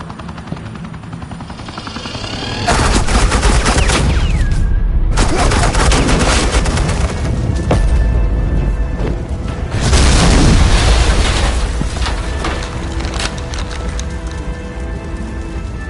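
Suppressing gunfire in Batman: The Enemy Within, with sustained loud automatic bursts and booms layered over a helicopter-like roar, swelling and easing over several seconds after a quieter opening.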